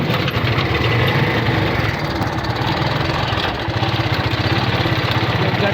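A struggling motorcycle engine runs steadily near a purified water station in San Isidro, Tarlac, giving a continuous loud buzzing drone with no talk over it.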